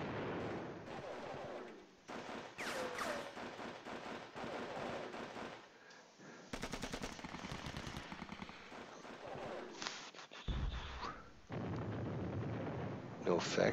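Bursts of artillery and rattling gunfire from the Panzer Battles Normandy wargame sound in repeated volleys with dense crackling stretches and brief pauses, while a voice talks over the combat.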